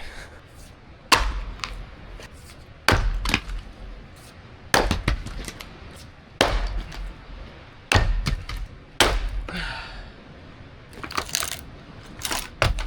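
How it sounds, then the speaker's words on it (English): An axe chops firewood outdoors in remote Alaska, landing as about ten sharp, close cracking impacts at irregular intervals of one to two seconds, with faint rustling and no talk. "we need to go chop up some wood for our fire tonight"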